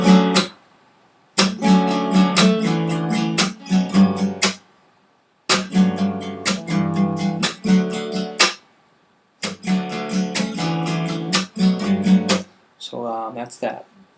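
Guitar played slowly and up close, strumming intro chords in a steady rhythm, with several strummed phrases separated by short pauses and a few lighter picked notes at the end.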